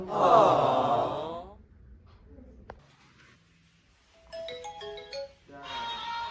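A phone ringtone plays while a call is placed: a short run of stepped electronic melody notes, then a second burst of tones, after a breathy voice at the start and a quiet pause.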